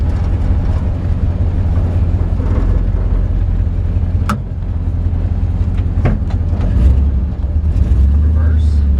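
A 1955 Ford F100 pickup truck rolls along at low speed into a cul-de-sac, its old engine giving a steady low rumble close by, with a few faint clicks and a brief rise in engine note near the end.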